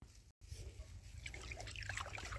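Water poured from a vessel at the base of a young grafted mango tree on a farm, a steady trickling, splashing stream that runs close and continuous after a brief gap at the start.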